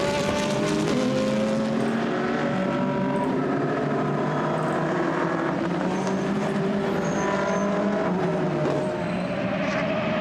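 A pack of GT sports cars rolls through a warm-up lap at the Misano circuit, a dense, sustained roar of many engines droning together at steady speed.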